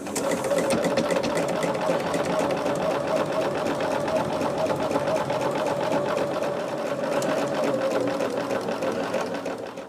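A sewing machine stitches fabric pieces together in a steady, rapid, continuous mechanical whir close by, running without pause and with no talk.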